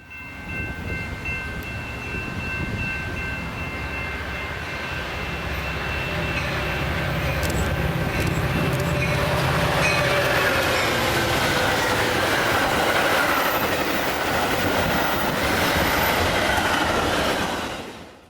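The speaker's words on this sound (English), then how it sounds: "up comes another outbound Metra train" An outbound Metra commuter train passes on a Chicago-area line, its rumble and rolling wheel noise building steadily to a loud, close roar with faint squeals before cutting off.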